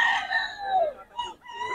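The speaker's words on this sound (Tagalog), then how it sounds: "maraming manok to mga idol" Roosters and hens kept in a chicken yard in Bocaue: a near, loud rooster crow trails off, followed by shorter clucks and calls, with no talking.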